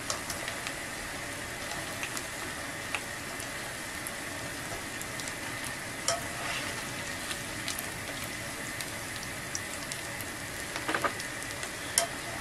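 Shrimp fry in a hot pan with a steady, dense sizzle and scattered sharp pops and crackles, close and continuous, with no talking.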